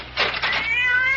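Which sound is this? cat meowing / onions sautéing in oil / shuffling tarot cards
cat meowing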